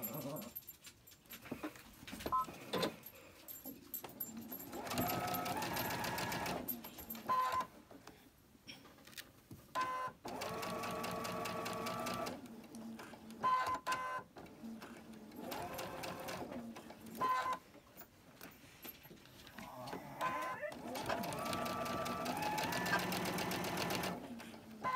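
A domestic sewing machine stitches fabric in several rhythmic bursts, running steadily for a few seconds at a time with short pauses between, close and clear.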